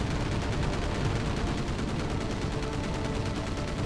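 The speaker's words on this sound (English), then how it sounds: "We're taking enemy fire!" Dense, continuous rattle of rapid enemy gunfire in the naval combat game Battlestations Pacific, during the Battle of Santa Cruz, loud and unbroken with fast repeating bursts throughout.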